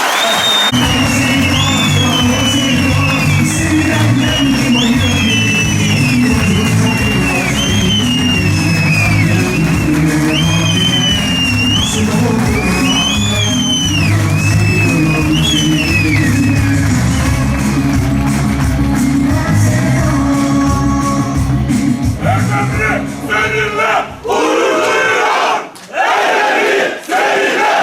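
A crowd of workers roars and cheers loudly at a union event with the mayor, whoops and shouts layered over a sustained din with a tonal wailing line above, dropping off near the end into scattered noise.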